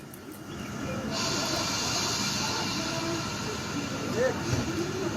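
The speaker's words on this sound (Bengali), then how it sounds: "তল্লাশির সময় হঠাৎ চলতে শুরু করে দেয় ট্রেন" A train pulling out of Bandel station, a rising rumble of rolling wagons with hissing brakes and a faint wheel squeal, loud and close, with a voice speaking underneath.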